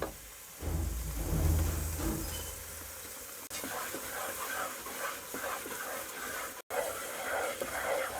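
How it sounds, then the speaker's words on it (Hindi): Spinach and fresh cream fry over high heat in a pan, giving a steady, close sizzling hiss with stirring noises that runs throughout. "अब इसमें फ्रेश मलाई को डालूंगी और पालक को मज़ीद तेज़ आंच पर भूनेंगे"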